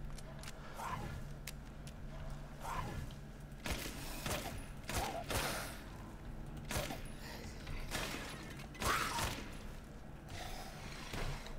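Gunshots in Resident Evil Village fire at a slow, steady pace, one every second or two, each a muffled thump with some mechanical clatter against a low droning factory background.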